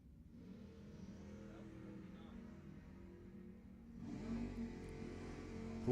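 Drag racing Chevelle and Mustang accelerate down the strip at Lebanon Valley Dragway, a steady loud engine roar that swells sharply partway through as the cars launch and pull hard.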